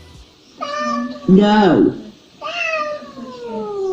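Angry cats meow and yowl in drawn-out, rising and falling cries from a played compilation, several calls in a row with a brief spoken word among them.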